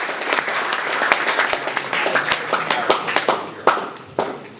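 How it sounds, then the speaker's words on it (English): Audience at a film premiere opening ceremony applauding, many hands clapping in a lively, uneven patter with some sharp individual claps standing out near the end. "Can I get a round of applause for all those people?"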